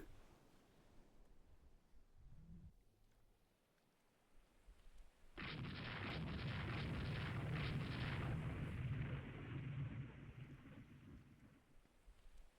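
Missile striking a ship in the naval strategy game Rule the Waves 3, a sudden loud blast that bursts in and rolls on as a broad roaring rumble for several seconds before fading.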